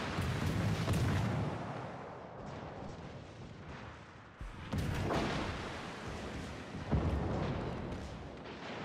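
A cruiser blowing up in World of Warships Legends, heavy rumbling explosions and booming naval gunfire layered into a thick, loud roar, with fresh blasts swelling several times.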